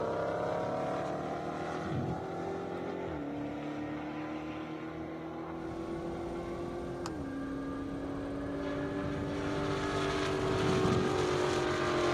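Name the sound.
drag race vehicles launching at airstrip race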